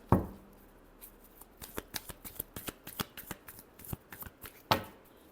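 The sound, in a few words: shuffling tarot cards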